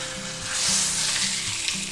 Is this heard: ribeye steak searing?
yes